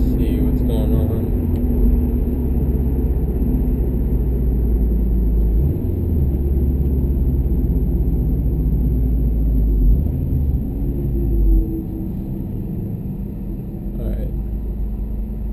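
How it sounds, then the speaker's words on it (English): A 2013 Subaru WRX STI sedan with a COBB AP Stage 1 tune drones steadily from inside the cabin, its low engine rumble stepping up in pitch several times as it downshifts, loud and continuous. "So I'm just gonna do some downshifts to the light, just kind of see what's going on."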